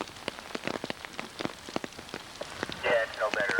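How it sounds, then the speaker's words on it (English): Rain falling on a foggy, rainy day at Eel River in Humboldt County during the 1996–1997 high water, heard as scattered close drop taps on a surface over a soft background hiss, with faint tonal sounds near the end. "Rainy day."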